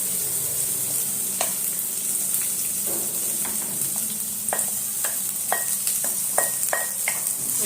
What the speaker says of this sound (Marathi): तो आपल्याला मंद गॅसवरती छान परतून घ्यायचं